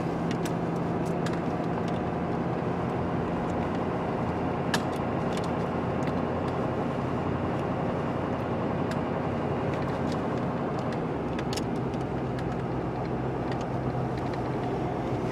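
A Ford 6.7 Powerstroke diesel pickup cruises along a quiet highway, a steady, continuous drone of engine and road noise from inside the cab with no talking.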